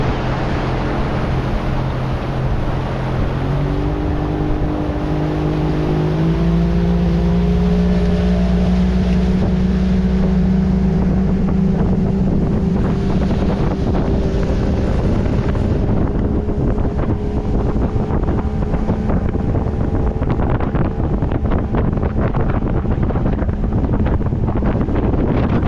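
A motorboat engine drones steadily and loudly throughout on a river, its pitch rising as it speeds up, with wind buffeting and water rushing alongside.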